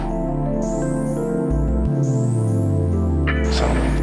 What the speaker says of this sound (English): A sampled 808 bass